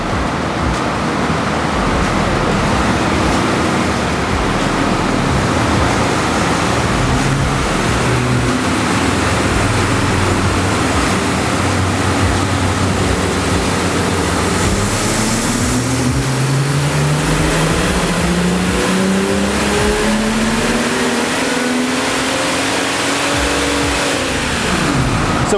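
A stock car with AWE axle-back exhaust and FTP charge pipe accelerating on a dyno run, loud constant exhaust roar with engine tone climbing steadily through the gears to a peak near the end.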